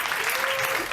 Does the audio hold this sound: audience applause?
yes